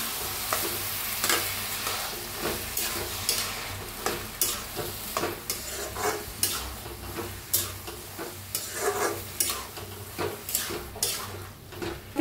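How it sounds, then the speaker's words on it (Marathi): Tomatoes are frying with browned onion in a pan, giving a soft, continuous sizzle with frequent close, clicking spatula strokes against the pan in an uneven rhythm, with no speech. "आता ह्याच्यातच टाकूया टमाटो, छान असं भाजून घेऊया टमाटोला बी।"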